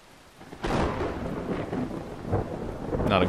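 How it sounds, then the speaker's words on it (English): In the adventure game Brothers, a deep thunder rumble rolls in over a steady wash of rain, with a second swell of thunder near the end. "Not a great sign with the thunder and whatnot."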